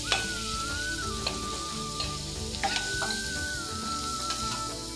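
Onions frying in hot tempering oil with curry leaves, a steady close sizzle and crackle running throughout, with occasional stirring clinks over the top and a faint tonal hum.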